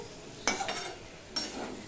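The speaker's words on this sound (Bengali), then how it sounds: "আলুটাকে এমনভাবে ভাজতে হবে যে ভাজার মধ্যেও যাতে সিদ্ধ হয়ে যায়" Potatoes fry in a pan for a vegetarian summer dish, with a soft steady sizzle broken by two sharper bursts of stirring and scraping, close and with no talk.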